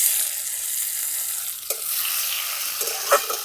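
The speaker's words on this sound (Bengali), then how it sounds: "এরপরে তেলের মধ্যে দিয়ে দিচ্ছি কুচিয়ে রাখা টমেটো।" Chopped tomatoes go into hot oil with lightly fried cumin, making a continuous bright sizzle close by, with a couple of soft stirring knocks near the end and no voices.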